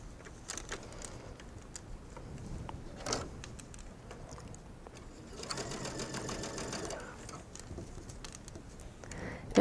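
Sewing machine running in bursts as elastic is stitched into the folded edge of mesh fabric on a top, with a steady whirring stretch in the middle, close and fairly loud with handling noise around it.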